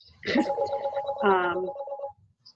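A mobile phone ringtone going off during a breast cancer awareness talk, a short bright electronic melody heard close and clearly, stopping after about two seconds.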